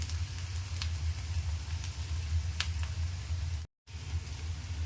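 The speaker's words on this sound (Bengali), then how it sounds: "পেঁয়াজটাকে আমরা আরো লাল করে ভেজে নেব।" Onions fry in oil with a steady, soft sizzle and a few faint crackles over a low hum, close but quiet, briefly cutting out near the end, with no talk.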